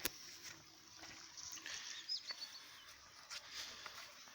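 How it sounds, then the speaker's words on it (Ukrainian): Soft, steady trickle of water running into a garlic bed, with faint high-pitched splashing, quiet and continuous, a few brief clicks and a faint chirp in the background. "Пішла мені вода сюди всю. О, чути як де. Вже набирається водичка."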